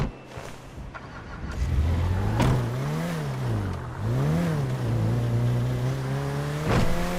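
Car driven in GTA 5 on PC, its engine revving up and down through several rising and falling pitch swells, close and continuous, with short clunks at the start and end.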